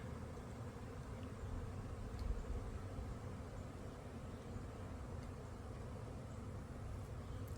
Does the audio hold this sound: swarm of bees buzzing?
yes